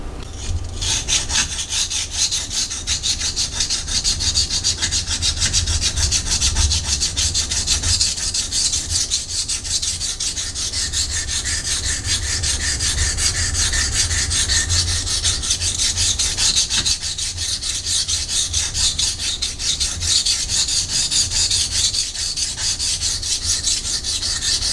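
A Ruike P801 knife with 14C28N steel is drawn across a wet sharpening stone in a continuous, steady rasping scrape, with repeated strokes running close and evenly throughout.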